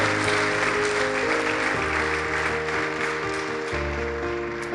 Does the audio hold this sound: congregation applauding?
yes